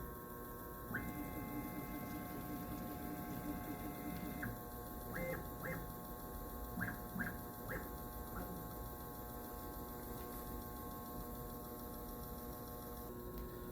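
Stepper-driven spindle motor on a CNC mill under Mach3 control moving toward the x-axis zero point, a steady electric whine and hum with several short rising-and-falling motor tones as it jogs, fairly quiet, no talking.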